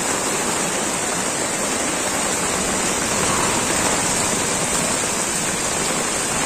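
Torrential rain pouring down on a flooded street in Virar, a loud continuous wash of water, close and steady, with no talking.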